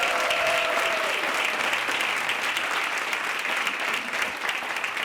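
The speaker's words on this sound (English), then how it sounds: "give a round welcome and round of applause to the Honorable Mayor of the City of Gary, Mayor Eddie D. Melton." An audience at a community forum at Indiana University Northwest applauds to welcome the mayor of Gary, with loud, continuous clapping throughout and a faint voice or tone briefly audible early on.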